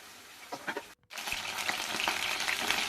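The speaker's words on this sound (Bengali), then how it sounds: "তো বন্ধুরা, লাল লাল করে এটাকে ভেজে নিতে হবে। তো দেখুন আমি কিভাবে ভেজে নিচ্ছি।" Chicken frying in a kadai (wok) for a chilli chicken dish, with a close, dense sizzle and crackle. Scraping stirs join in, and after a brief dropout near the start the sizzle comes back steady and loud. No voices.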